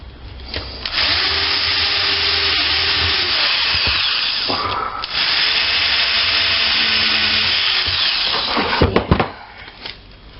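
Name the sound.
drilling through material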